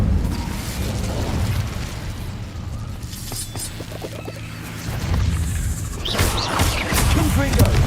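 Confringo and Incendio spell blasts in the Hogwarts Legacy video game, loud shattering, crashing bursts that land in several waves, with quieter stretches between the impacts.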